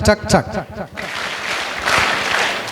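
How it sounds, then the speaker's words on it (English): At a school investiture ceremony, a voice speaks briefly before an audience breaks into sustained applause that runs steadily until the end rather than a few separate claps. "Give him a hand, please. No. Only 3 claps."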